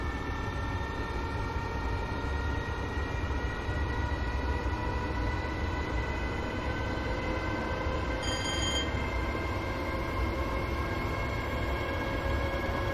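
Electric Class 314 six-car train in a train simulator game runs with a steady rumble and layered motor whine, loud and continuous, with a brief high tone partway through.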